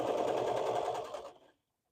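A sewing machine stitches fabric in a fast, steady mechanical rattle, close and even, then slows and stops abruptly into silence.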